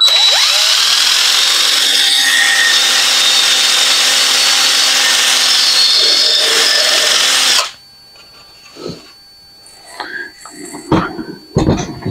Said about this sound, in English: Let's see if it'll even drill, because you know, walnut's a pretty hard wood.